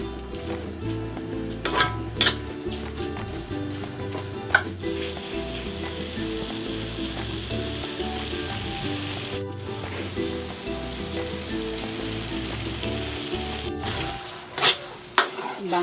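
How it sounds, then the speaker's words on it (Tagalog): Coconut cream sizzling in a pan as it cooks down until its oil separates, a constant bubbling hiss with occasional stirring clatter over faint tonal background sound. "Lulutuin natin ito hanggang sa lumabas yung mantika nitong gata."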